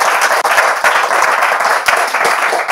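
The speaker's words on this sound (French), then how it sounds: "Mais on peut quand même l'applaudir" Steady applause from a crowd at a Bible quiz fills the whole stretch, dense and even, with no voices over it.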